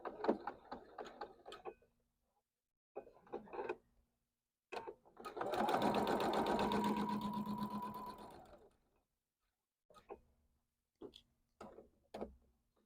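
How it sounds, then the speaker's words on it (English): A sewing machine stitches quilt block pieces together in rows, running in one steady sustained burst of several seconds, with quieter handling and fabric rustles before and after. "I'm just going to sew it together in rows"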